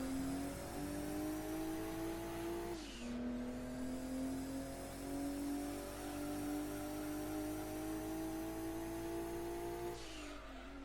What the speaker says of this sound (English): In a car that is very much a tuned variation of a Porsche 911